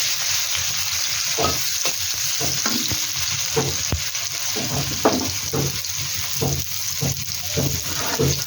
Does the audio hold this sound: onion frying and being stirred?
yes